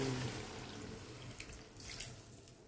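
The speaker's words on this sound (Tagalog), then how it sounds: "lalagyan natin ng tubig" Tap water runs steadily into a cooking pot holding fish, a continuous close splashing stream that fades slightly toward the end, with no voices over it.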